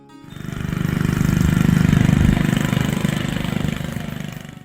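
A David Bradley Tri-Trac tiny tractor from the 1950s runs its small engine with a rapid, even putter that swells in loudness and then eases slightly, close and alone.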